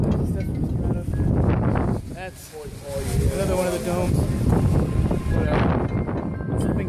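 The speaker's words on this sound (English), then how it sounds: "It's a little windy" Wind buffets the microphone in low rumbling gusts at the top of St Peter's Basilica dome, under someone talking.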